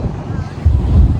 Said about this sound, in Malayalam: കടലിൽ തിരയടിക്കുന്നു, മോളിൽ കാറ്റടിക്കുന്നു